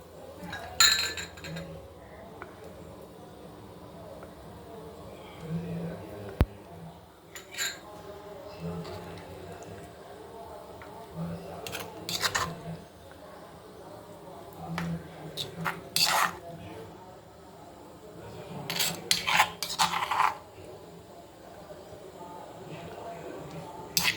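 Eggplant roti chutney scraped from a stone mortar into a glass bowl, with repeated clinks and light scraping knocks of spoon against dish, close by, under a low background hum.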